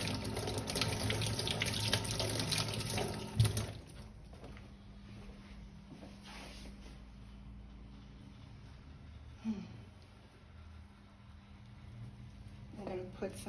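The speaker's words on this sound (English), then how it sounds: "because I've been touching raw egg, I'm going to wash my hands" A kitchen tap runs while hands are washed under it: a steady loud gush of water first, then a quieter trickle with occasional splashes, and a voice talks over it.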